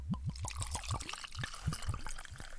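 Irish whiskey is poured from a bottle into a glass, a close, gurgling stream of rhythmic glugs and trickles that runs steadily throughout.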